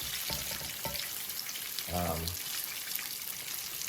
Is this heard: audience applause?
no